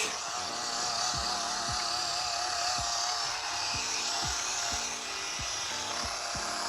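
Rotary polisher sanding a plastic panel, a steady close whirring motor tone with a repeating rhythmic knock, running continuously with no talk.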